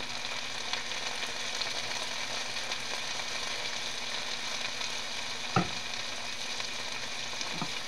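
Tofu frying in a pan with a generous pour of soy sauce gives a steady, close sizzle that runs throughout, with a couple of brief clinks or stirs near the end.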